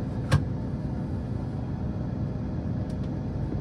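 A combine harvester working a canola field rumbles in a low, steady drone, close and continuous, with a brief sharp knock near the start.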